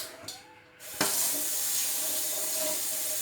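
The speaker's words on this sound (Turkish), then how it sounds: "Yine görebiliyorsak durulamaya devam edelim." Tap water runs steadily into a sink while dyed clothes are rinsed, a brief clatter then a loud continuous splashing gush close by, with no talk.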